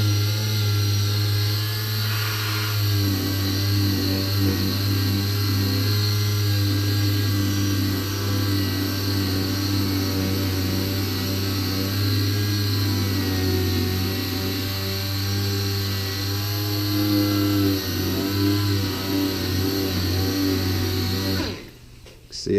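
An acrylic headlight lens is sanded with a sandpaper pad. A steady, droning motor whine and hum runs unbroken for about twenty seconds at close range, then cuts off abruptly at the end.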